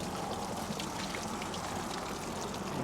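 Water pours steadily onto the soil of a bald cypress bonsai, a soft, continuous hiss and patter at low volume.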